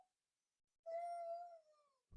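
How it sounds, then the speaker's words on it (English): A sleeping dog whimpers in a dream, giving one drawn-out, high, quavering howl that trails off, faint and indoors, with a short yip before it and near-silence around it. "If you can hear my dog in the background, she's dreaming."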